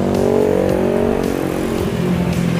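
Cars and motorcycles queued on a toll road access at night, a continuous low engine drone with motorbike revving and passing vehicles rising and fading, close and fairly loud, no talk.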